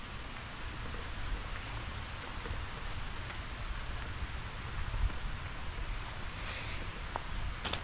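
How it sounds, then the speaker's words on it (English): Rain falling outdoors, a steady dense hiss of drops on surfaces with faint rustling, continuous and fairly quiet throughout. "I'm caught in the rain right now."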